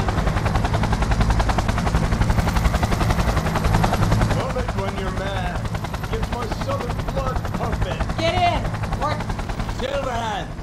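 Cyberpunk 2077 helicopter noise, a steady loud rotor drone mixed with bursts of gunfire, while voices talk over it in the later part.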